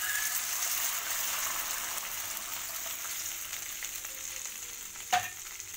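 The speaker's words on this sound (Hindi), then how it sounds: "1/2 लीटर मिल्क डाल रही हूँ।" Half a litre of milk is poured into a hot pan holding cooked dry fruits, giving an even, fairly quiet hissing sizzle throughout, with one sharp clink near the end.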